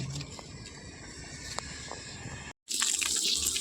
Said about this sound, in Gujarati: આપણે અત્યારે પાણી ચાલુ કરી દીધું છે